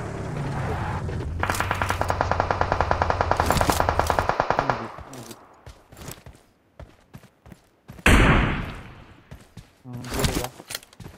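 Gunfire in PUBG Mobile, a long rapid automatic burst of evenly spaced shots, then scattered single shots and thuds, a loud blast near the end, and a voice speaking partway through.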